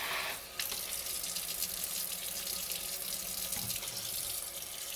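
Water runs steadily from a kitchen tap while fish is being cleaned, a close, continuous splashing hiss with a brief dip near the start.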